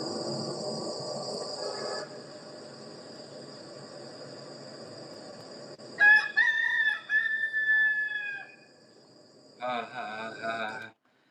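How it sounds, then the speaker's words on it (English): Rooster crowing from an old recording, several long drawn-out crows one after another with a brief gap, set over steady insect or cricket buzz and a low background rumble. "the old rooster video of the problem that I had with a rooster"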